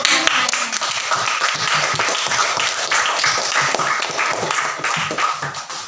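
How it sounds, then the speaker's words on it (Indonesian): A sixth-grade primary school class claps for classmates during a maths lesson, a brisk, continuous round of many small hands close by that keeps an even loudness throughout. "Beri tepuk tangan dulu dong."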